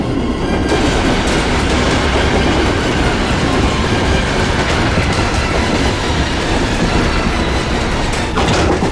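A moving train rumbles loud and close in a steady, dense roar of wheels on track, with rhythmic clickety-clack and faint metallic squeals running throughout and no voices.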